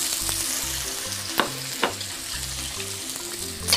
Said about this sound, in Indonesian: Kita tumis bawang merah sama bawang putih.